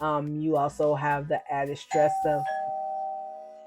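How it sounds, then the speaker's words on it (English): A home doorbell chimes, its clear ringing tone sustaining and slowly fading after a woman's speech stops. "that was my doorbell"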